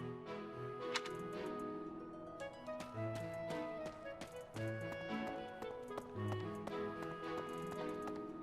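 Horses in a stable in the video game Fire Emblem: Three Houses, hooves clopping and shuffling in a steady rhythm beneath a continuous layer of game music.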